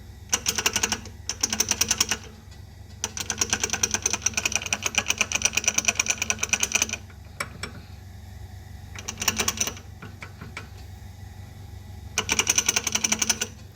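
Worn inner and outer CV joints on a Toyota Corolla give off rapid, sharp clicking in repeated bursts over a low, steady engine hum.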